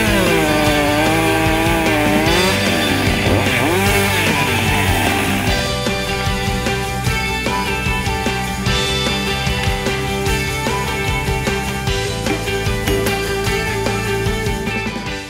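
A Husqvarna 560 XP chainsaw runs loud and close, its engine rising and falling in pitch at first before settling into a steady, harsh high-revving drone that continues throughout with no talking.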